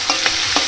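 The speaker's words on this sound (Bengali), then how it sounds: "এভাবে একটু ভেজে নিচ্ছি।" Slit green chillies and chopped onion sizzle loudly in hot oil in a pan, a dense close hiss with a few quick stirring scrapes over less than a second.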